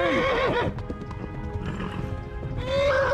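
A horse in the video game Kingdom Come: Deliverance gives a loud whinny, then a stretch of quick clopping hooves, then a second neigh, all close and prominent.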